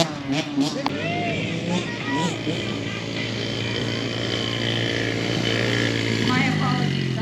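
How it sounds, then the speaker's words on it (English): Buzzing two-stroke engines of youth dirt bikes, 12 and under, racing laps at an ATV park track, a high whine rising and falling as they pass, heard behind a commentator talking. "we've got the 12 and under youth dirt bikes racing now"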